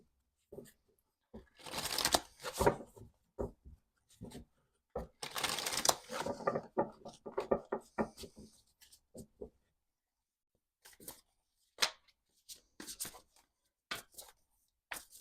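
Bursts of tarot card shuffling, crisp riffles and soft slides in quick clusters with pauses between, close and fairly quiet.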